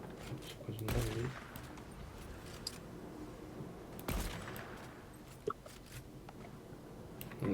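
Gunfire in an online shooter game, a few sharp distant shots and bursts spaced out over a low background, with players talking faintly.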